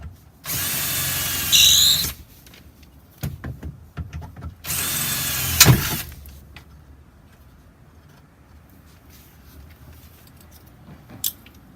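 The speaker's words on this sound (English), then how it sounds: "I'm just going to open up that hole to match the diameter of the rivet nut" A power drill whines loudly in two bursts of about one and a half seconds each, opening a hole for a rivet nut on a Honda Acty kei mini truck, then stops, followed by faint handling clicks and quiet room noise.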